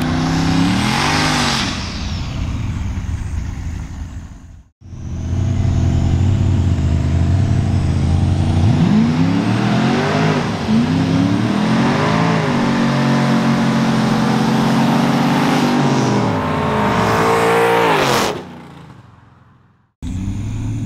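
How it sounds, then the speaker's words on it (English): A turbocharged Chevy Tahoe drag races an all-motor Chevy Silverado, engines revving hard then roaring at full throttle through a long, loud pull with rising pitch before cutting off. "Turbo Tahoe versus a all-motor Silverado"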